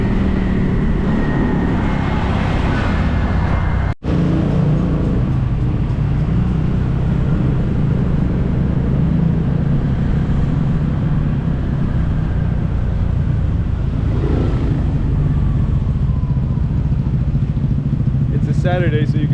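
Motorcycle riding through busy Saturday-morning street traffic in Jakarta, a loud continuous engine and road roar close to the microphone, passing close to a rickshaw, with wind buffeting and a brief dropout near the start.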